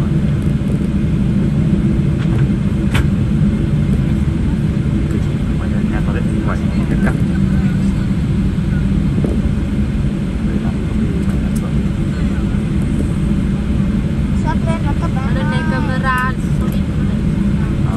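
A passenger airplane taxis and then accelerates down the runway for takeoff, its engines a loud, continuous rumbling roar heard from inside the cabin, with faint voices underneath.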